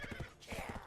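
A horse's hooves clip-clop at a quick trot in Black Desert Online, a faint, rhythmic run of low thuds in pairs, with no voices over it.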